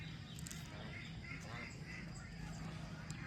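Ducks about 13 days old on a village duck farm, scattered soft quacks over a constant low farmyard hum, faint and somewhat distant.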